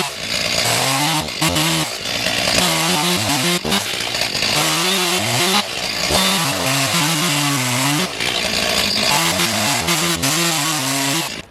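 A chainsaw bucking a storm-fallen tree log into firewood in the woods, the engine revving up and bogging down repeatedly as it bites through the wood, loud and close throughout with no talking.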